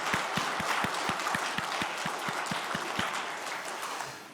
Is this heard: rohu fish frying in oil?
no